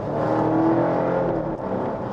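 A Volvo S60 B5 turbo engine revs from inside the car, a loud, smooth, sustained hum that holds steady and dips briefly before carrying on.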